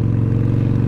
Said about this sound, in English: Certainly as the revs pick up, just like that.